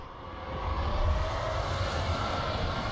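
A starfighter engine from the Star Wars Battlefront video game holds a steady, loud droning roar with a deep low rumble, swelling slightly after the first half second and staying constant throughout, with no voices.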